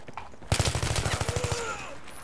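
Rapid automatic gunfire from an ACOG 4x-scoped standard rifle in Battlefield 3, a burst of about fourteen sharp, evenly spaced shots over a second, loud and close after a brief quiet start.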